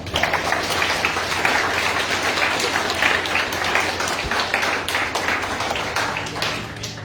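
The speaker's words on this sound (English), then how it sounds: "Let's give another round of applause to Jaime." A graduation ceremony audience applauds after a student's speech, broad sustained clapping from many people filling the space at an even level throughout.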